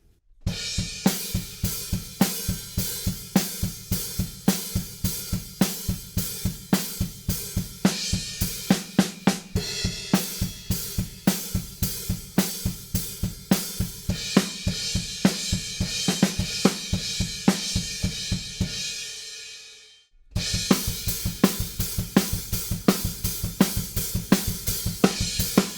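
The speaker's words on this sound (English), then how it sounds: "And then the second part of this chorus goes onto the hi-hats, so that would sound like this." A drum kit plays the second part of the chorus of a song with the pattern moved onto the hi-hats, loud and close, steady driving hits with crashes, a short fade and gap, then resuming.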